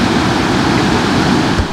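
A waterfall at the end of a trek in Garzón, Huila, Colombia, pours as a loud, steady broadband rush of water with no voices.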